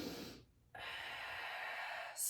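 A long, steady exhale during a breathing exercise, a close breathy rush of air following a short quiet pause, with another breath starting at the end.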